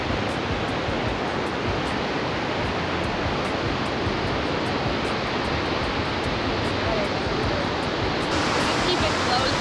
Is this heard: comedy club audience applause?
no